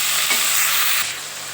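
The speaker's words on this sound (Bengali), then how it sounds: "চলো সবজিটা ভাজা হয়ে যাক" A brief burst of loud sizzling hiss of vegetables frying in hot oil, close up, easing slightly toward the end.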